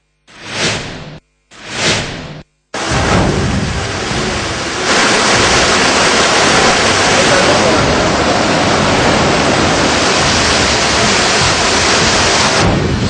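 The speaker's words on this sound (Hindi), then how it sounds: "सड़क से पानी ओवरफ्लो हो रहा है" Floodwater rushes and roars over a road in Chittorgarh, Rajasthan, with waves surging below; two short bursts open before a loud, continuous wash of turbulent water and wind noise.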